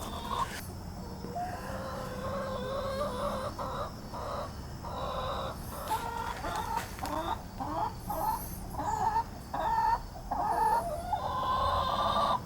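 Chickens in a backyard run cluck steadily and close by over about twelve seconds, a busy stream of overlapping calls with a soft background hum.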